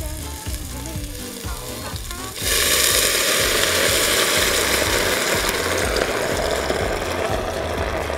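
Green beans (ejotes) drop into hot oil and salted water for a vegetable escabeche, setting off a sudden loud, steady sizzle that bursts in after a quieter stretch and keeps crackling close and constant to the end.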